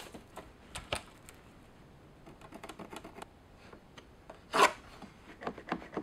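Hand-cutting wooden pieces for a DIY birdhouse with minimal tools, heard as scattered close scraping and rasping strokes with a sharper burst near the middle, no talking.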